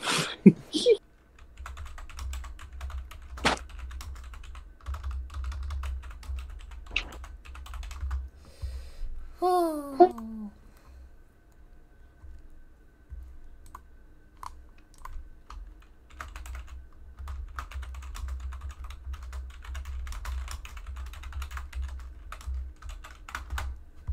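Computer keyboard typing during a chat in an online game, quick irregular clicks and clatter running through most of the stretch, with a few louder isolated taps and other game sounds between them.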